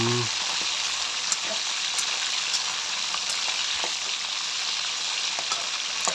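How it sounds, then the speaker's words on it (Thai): Pork pieces fry in hot oil until crispy, giving a loud, dense, continuous sizzle close by, with a few faint clinks of stirring. "แล้วก็เอาไปทอดนะครับ"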